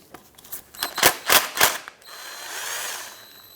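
Ratchet wrench working two 10mm bolts loose on a 2008-2012 Honda Accord with a 3.5L V6, a series of sharp clicking bursts followed by a softer whirring spin, close and fairly quiet.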